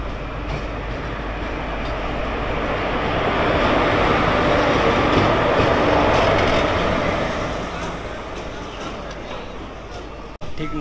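The Nabadwip Dham–Balurghat Express passenger train runs between Murshidabad and Malda, a dense continuous rumble and rattle heard from on board that swells midway and eases toward the end.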